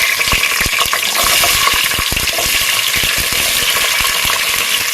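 Bay leaf and small shallots frying loudly in hot ghee and oil for prawn biryani, a dense close sizzle with sharp popping crackles and spatula knocks throughout.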